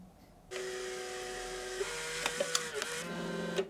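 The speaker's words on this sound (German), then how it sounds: "so kann ich also Bilder von mir mit meinem Smartphone machen und auf dem Drucker direkt ausdrucken" An instax photo printer loaded with confetti film prints a picture sent from a smartphone, starting after a brief quiet moment with a steady mechanical whir and a few small clicks, close and alone.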